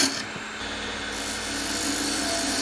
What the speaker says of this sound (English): we're going to come in here with a peeling cut